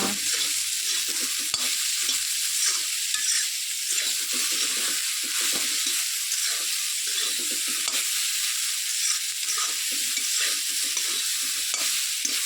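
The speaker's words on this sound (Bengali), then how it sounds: "ভালোভাবে নেড়ে চেড়ে একটু ভাজি করে নিয়ে সয়াবিনটা" Mixed vegetables and soybean chunks sizzle steadily in a hot kadai with salt and turmeric, with continuous frying hiss and repeated scraping stirs of a spoon against the pan, no talking.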